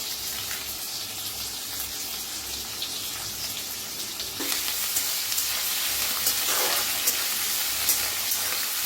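Sliced onion with asafoetida and curry leaves sizzles steadily in a pan for a cabbage sabzi, a continuous crackling hiss that grows louder and busier partway through.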